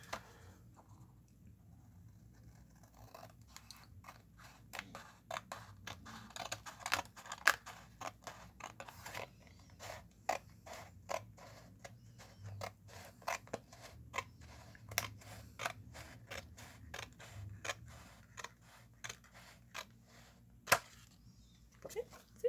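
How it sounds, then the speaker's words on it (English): Scissors snip off excess paper while a composition notebook is being decorated, producing many quiet, irregular clicks and short crisp cuts across a long stretch, faint and close, with a low background hum. "So I can cut this off."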